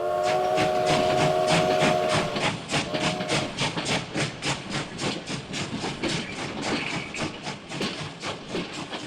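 A steam whistle blows twice, long then short, before a steam locomotive's rapid, rhythmic chuffing takes over and continues steadily.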